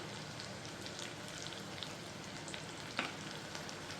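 Ginger and garlic paste sizzles gently in a pan, a steady soft crackling hiss at low level with a faint clink near the end.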